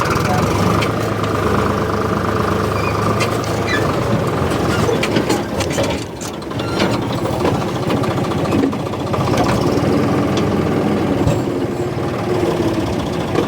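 A tractor pulling a rotavator works a field with a steady, loud engine drone and churning, rattling clatter throughout, close by, with brief dips and occasional voices underneath.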